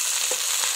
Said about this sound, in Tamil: சின்ன உள்ளியை போட்டு நல்லா ஃப்ரை பண்ணுங்க.